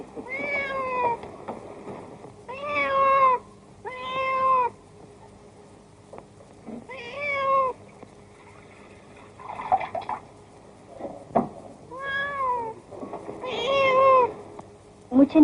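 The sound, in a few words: cat meowing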